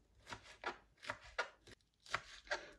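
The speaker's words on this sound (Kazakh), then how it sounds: "Көк пиязды майдалап тураймыз." A knife finely chops green onions on a cutting board in short bursts of crisp, close taps separated by brief pauses, with no talking.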